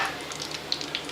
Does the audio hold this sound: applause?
no